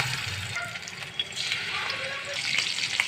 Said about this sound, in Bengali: আমি হালকাভাবে ভাজা দেব